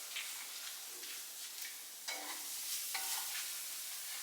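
Plant-based food sizzles steadily in a fairly dry, lightly oiled pan, a continuous close hiss with occasional scraping and tapping as it is stirred, and no talking over it.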